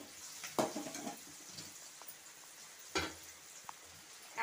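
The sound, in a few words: crushed garlic, cardamom and cinnamon frying with onions in a pan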